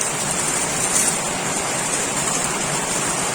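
Heavy evening rain pours down in a steady, dense hiss that stays loud and even from start to finish, with no voices over it.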